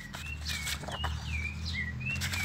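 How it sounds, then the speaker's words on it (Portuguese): A sabiá thrush sings a series of clear, whistled phrases, rising and falling notes repeating every half second or so, moderately close over a low rumbling background. "Aí é o som do sabiá."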